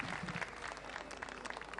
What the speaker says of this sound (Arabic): تصفيقة.